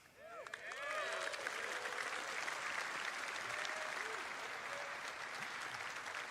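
Audience applause at a live gaming convention event, rising after a brief start into sustained, dense clapping that carries on steadily throughout, with faint voices heard over it.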